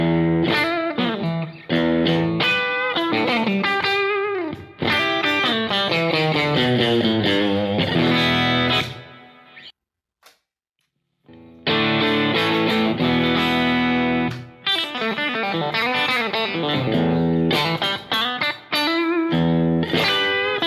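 PRS Silver Sky electric guitar played clean through a compressor and a Strymon Flint reverb, with strummed chords and ringing single-note lines, loud and continuous apart from a brief pause near the middle.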